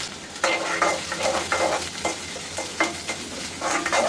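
Chopped onion and garlic dropped into hot oil in a wok, sizzling and frying steadily while a utensil stirs and scrapes in repeated bursts, close and clear with no talk.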